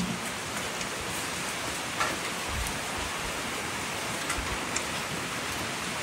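Steady rain falling on a surface outdoors, a dense even hiss with a few louder drops standing out.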